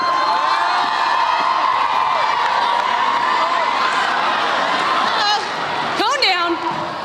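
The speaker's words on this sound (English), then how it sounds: "Cheer them on, guys." A high school pep rally crowd cheering and shouting through a wheelbarrow race in a gym, a loud continuous roar with whoops and children's yells, and voices calling out over it.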